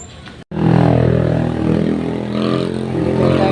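A motorcycle engine starting up and idling steadily, a loud close rumble that catches after a brief gap and holds an even running note.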